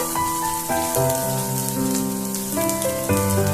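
Ginger and chopped garlic frying in hot oil over a high flame for an egg chilli recipe, giving a steady, continuous sizzle beneath music playing throughout.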